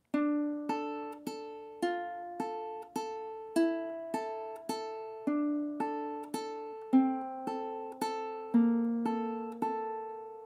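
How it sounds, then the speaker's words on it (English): Ukulele notes are picked very slowly in a triplet picking pattern, each plucked tone ringing clearly and decaying before the next in a steady, even rhythm, close and alone. "So that second half, super, super slow, sounds something like this."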